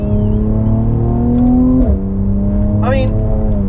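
A Mercedes-AMG C43 engine drones loud and steady from inside the cabin, with a brief pitch dip as it shifts and a faint crackle near the end; a voice talks over it.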